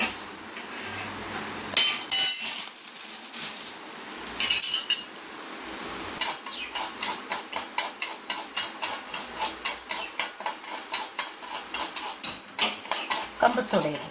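Pearl millet dry-roasting in a hot vada pan, with a metal utensil scraping and clinking against the pan in quick repeated strokes, loud and close, after some earlier clatter.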